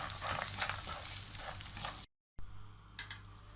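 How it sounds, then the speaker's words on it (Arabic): Meat frying in oil in a pan with a spoonful of tomato sauce, a steady loud sizzle with occasional stirring, cut by a brief gap of silence before the quieter sizzling resumes. "دلوقتي يا حبايبي هنحمر اللحمه"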